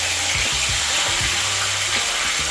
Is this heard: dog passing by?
no